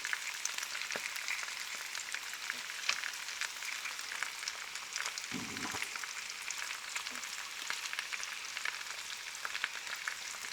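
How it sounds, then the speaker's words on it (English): Short ribs and tomato puree searing in a pan on a wood-fired kitchen stove, giving a steady, fairly quiet sizzle and crackle with scattered pops and one brief low rumble, no talking. "This needs to be slightly seared."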